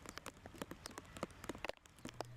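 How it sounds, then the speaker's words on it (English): Heavy rain falls in the Inland Empire during a Tuesday storm, a dense continuous patter of scattered drops and splashes, quiet and steady with a low hum underneath. "Heavy rains continue to shower on the Inland Empire Tuesday."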